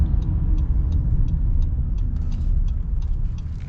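A 2022 Honda Ridgeline RTL pickup with a 9-speed transmission accelerates hard in sport mode, its engine a loud, steady low rumble heard from inside the cabin, with faint regular ticking above it and no voices.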